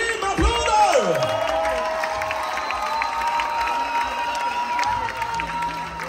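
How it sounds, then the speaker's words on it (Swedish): An audience cheers and applauds for performers Emilio and Kim on a Swedish show, a lively crowd swell with a bright musical sting sweeping over it at the start. "Emilio och Kim, applåder!"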